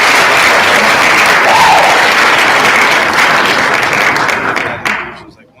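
An audience applauds a podcast guest, loud sustained clapping close up that fades out near the end.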